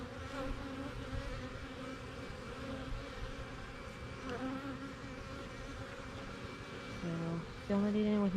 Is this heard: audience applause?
no